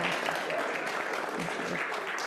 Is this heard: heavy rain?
no